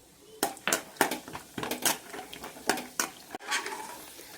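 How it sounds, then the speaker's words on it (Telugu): Raw peanuts are stirred in hot oil in a pan, producing a string of sharp, close scraping and clattering strokes at an irregular rhythm over a low, faint sizzle. "ఈ వేరుశెనగ గుళ్ళని వేపేసుకుందాము."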